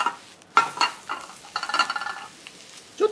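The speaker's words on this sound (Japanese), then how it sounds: "そうしましたら、ルッコラを入れます。" Arugula and ham stirred in a small frying pan, with a soft sizzle under intermittent scraping and clinking of a utensil against the pan in irregular bursts.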